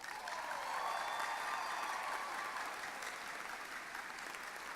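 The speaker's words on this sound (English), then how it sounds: "I believe they deserve a great round of applause." Audience applause at a community college commencement ceremony, a broad steady wash of clapping from a large crowd that holds at full strength for nearly five seconds with no voices on top.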